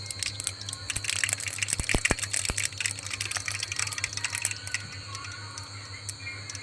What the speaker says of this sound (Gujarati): રાયડો નાખી દીધો છે.